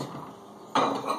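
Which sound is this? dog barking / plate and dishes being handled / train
plate and dishes being handled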